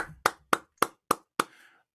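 Welcoming applause for a band: five sharp, evenly spaced claps about a quarter second apart, close and distinct, the last one trailing off into a brief wash of noise.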